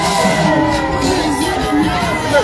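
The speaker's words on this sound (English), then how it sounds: "And the crowd continues to swarm here." A large crowd of supporters of Liberia's president walks through the street toward a stadium, cheering and shouting continuously with whoops and children's yells, loud and close throughout.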